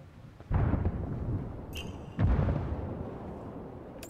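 Two heavy booms from grenade blasts in the shooter game Ghost Recon Wildlands, each hitting suddenly and rumbling off, with a short metallic ping between them.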